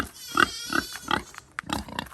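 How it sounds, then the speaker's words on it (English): A farm pig grunts and snorts close by, a series of short rhythmic oinks and snuffles in quick succession. "And then over here is our pig."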